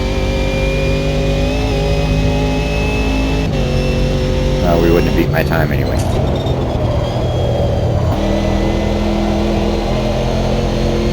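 A Chevrolet Camaro engine revving and accelerating in a racing video game, a steady loud drone with gear-shift pitch changes, heard under a voice talking.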